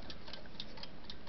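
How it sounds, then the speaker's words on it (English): An antique Ansonia chrome wind-up alarm clock ticks steadily and quietly, an even run of crisp, close ticks at a brisk regular rhythm with nothing else heard. "wind-up alarm clock in the sunshine."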